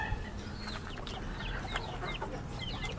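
Chickens and two-month-old chicks cluck and peep steadily at close range on a farm, a busy overlapping chorus of short calls with no talking.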